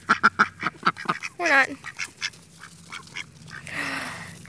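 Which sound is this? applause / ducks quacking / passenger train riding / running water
ducks quacking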